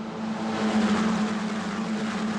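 Italian F4 single-seater race cars roar through the Eau Rouge corner at Spa-Francorchamps at the start of a race, a dense, sustained engine drone at steady high revs, loud and continuous, with no voices.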